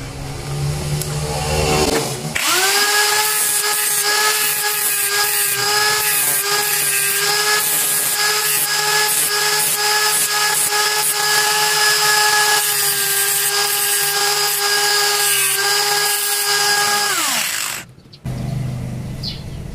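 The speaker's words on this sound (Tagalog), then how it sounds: "makakailangan din tayo ng grind para i-grind natin yung mga kanto ng tornilyo para lumapat dito" An angle grinder shapes the corners of a metal screw for a homemade 144 MHz antenna, giving a loud, steady, high-pitched whine for about fifteen seconds before spinning down, with no talking.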